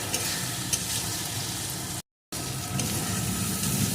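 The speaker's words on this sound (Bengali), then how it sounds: "একটু হলুদের গুঁড়ো এখন আবারও মশলাটা সুন্দর করে কষিয়ে নেব" Spice paste with chili powder and turmeric sautéing in oil in a pan for a duck egg curry, a steady close sizzle with stirring scrapes, briefly cut to silence midway before resuming.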